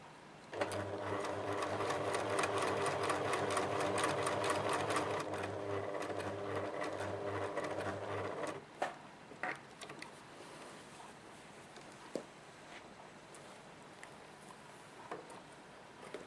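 Sewing machine stitching a folded Christmas tree napkin, a fast steady mechanical chatter for about eight seconds, then stopping, followed by scattered clicks and handling noises.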